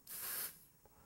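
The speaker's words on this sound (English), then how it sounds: "Antiseptic sprays are available in both aerosol" An aerosol antiseptic spray gives one short, close burst of hissing that lasts about half a second, then cuts off into near silence with a faint tap afterward.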